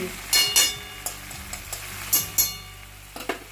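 Ghee goes into a finished potato and pointed gourd curry sizzling in a pan, with a steady frying hiss broken by repeated scraping stirs and clinks of the spoon, close and fairly loud.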